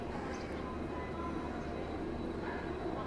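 Mumbai–Pune Intercity train with a diesel locomotive at CST station, a low steady rumble and hum of the idling train heard from the platform, faint and continuous with no talk.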